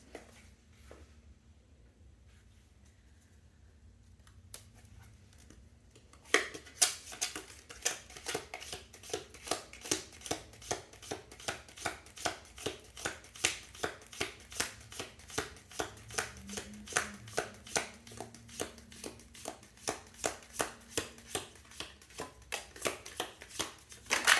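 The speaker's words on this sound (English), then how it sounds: "let's have a last shuffle here" Tarot cards are shuffled close by in a fast, regular riffling rhythm of many crisp slaps that starts after a quiet opening and runs to the end, with no talk.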